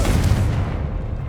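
Confringo blasting spell in Hogwarts Legacy, a short, loud, low booming explosion that rumbles briefly and then fades.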